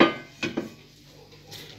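A metal spoon stirs sweet rice (matanjan) in a pot, giving a sharp scrape up front, two quick clinks against the pot, and a faint knock near the end, all close and quiet with no talking.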